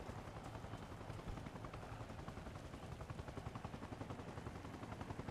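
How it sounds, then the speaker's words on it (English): Distant gunfire in a milsim video game, a dense steady crackle of shots rolling on without pause beneath a constant noisy background, no voices. "I don't know where these guys are though that are shooting."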